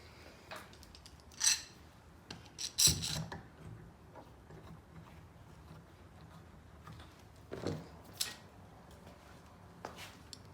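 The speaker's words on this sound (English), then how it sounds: "Now once this is in place, and I have that center chalk line going down, I go ahead and clamp it." Clamps being fitted and tightened on herringbone table top boards, with a few sharp metallic clicks and ratcheting clanks scattered over quiet stretches, close by.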